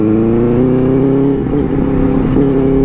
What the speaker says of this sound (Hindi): तो इस व्लॉग में डैडी 650 आर लेके आ रहे हैं।